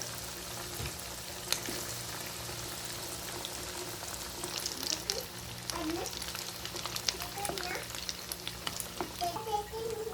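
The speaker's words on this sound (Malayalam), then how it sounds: "നമുക്കിതൊന്ന് ലോ ഫ്ലെയിമിൽ ഇട്ടിട്ടാണ് ഫ്രൈ ചെയ്തെടുക്കേണ്ടത്" Cheese, chicken and potato balls fry in hot butter over a low flame, giving a steady, close sizzle with light crackles and occasional stirring clicks throughout.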